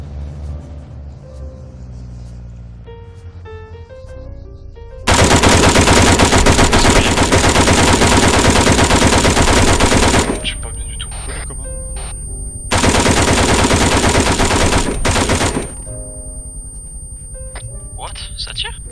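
Video-game machine-gun fire comes in two long, loud, continuous bursts, the second shorter, with quieter engine-like sounds and softer noises between and around them.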